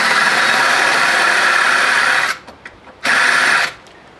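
Power drill fitted with a step drill bit boring a bolt hole, a loud close high-pitched whine that runs steadily, cuts out briefly with a few short bursts, then spins up again for a second run.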